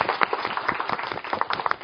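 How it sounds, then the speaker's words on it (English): Audience clapping for volunteers at a training session: a steady patter of hand claps with irregular sharper peaks, moderately quiet and continuous, no voices over it. "Let's give our volunteers a nice clap."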